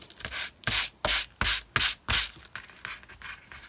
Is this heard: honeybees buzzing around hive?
no